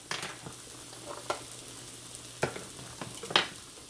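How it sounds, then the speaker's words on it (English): Garlic and onions frying in a pan for baked spaghetti: a soft, quiet sizzle with a few scattered scrapes and clicks of stirring, no voices. "we're going to add some mixed garlic into our onions"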